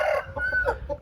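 Rooster crowing with chickens clucking at a rooster farm keeping bulldog-type fowl, a loud nearby crow stretching through the second with clucks around it and no talk.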